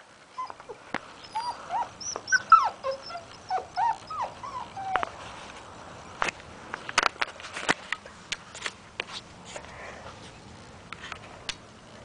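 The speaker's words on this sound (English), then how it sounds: "That's my puppy." A puppy whimpers in short, high cries, then sniffs and shuffles about with scattered sharp clicks and light thumps, close by, with no talking.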